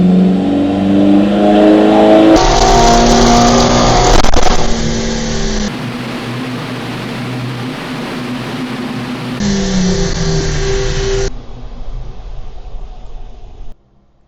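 Mercedes A45s engine on a dyno, revving hard through a loud sustained pull with rising tone, shifting pitch in stages, then dropping off and falling quiet at the end.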